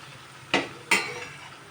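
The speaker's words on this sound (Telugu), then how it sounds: "లైట్గా మరీ ఒత్తిడి లేకుండా కలుపుకోవాలి." Korameenu fish pieces being gently stirred into a curry in a pot, two distinct scraping clinks of a spoon against the vessel, close and fairly quiet, with no talking.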